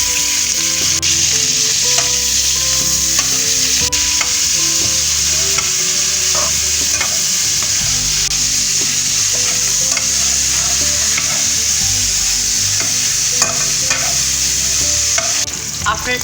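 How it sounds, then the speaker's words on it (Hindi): Meat sizzles and fries in four to five tablespoons of oil in a pan, a steady close hiss that runs the whole time with occasional stirring clinks and no talking. "एक पैन लिया मैंने, इसमें about 4 to 5 table spoon oil add किया। इसमें हम ये गोश्त ऐड कर लेंगे।"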